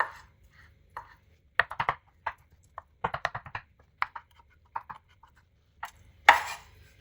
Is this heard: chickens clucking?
no